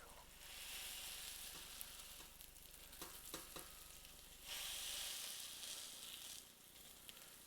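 Sweet potato latkes fry in a pan with a steady, fairly quiet hiss of oil, marked by a few scraping knocks midway and a brief surge of stronger sizzling.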